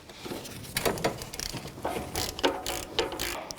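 A ratchet with a 14mm socket loosens an alternator mounting bolt on a 2006-2012 Toyota RAV4, giving a string of quick clicking bursts in uneven strokes, close and fairly quiet with no speech.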